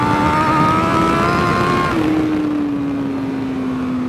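A 2021 Honda CBR1000RR-R Fireblade SP roars loudly and close while being ridden on a race track, its engine drone holding steady before dropping in pitch partway through, as a gear shift would, with no talk.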